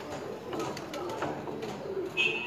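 Pigeons at a loft coo softly and repeatedly at close range, with a faint voice in the background.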